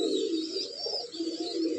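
A pigeon of a rare light-coloured strain coos nearby in a low, throaty, repeated rolling call, steady and fairly quiet, with no talking over it.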